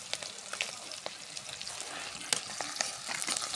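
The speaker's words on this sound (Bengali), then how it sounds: "একটু ভাজে নিব।" Chopped green chili, garlic and onion fry in a hot pan, giving a steady close sizzle dotted with sharp crackles and pops throughout, with no talking.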